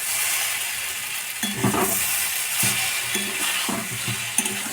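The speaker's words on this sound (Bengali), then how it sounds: "ভালো করে নেড়ে চেড়ে আমি এটাকে ভালো করে ভাজবো" Drumstick flowers fry in a pan with a constant loud sizzle, while a spatula scrapes and stirs them in a few rhythmic strokes, with faint clinks against the metal.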